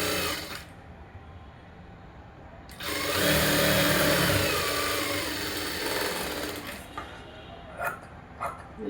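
A sewing machine stitches the lining of a blouse in a loud mechanical run lasting about four seconds, followed by quieter handling noises and a few short bursts.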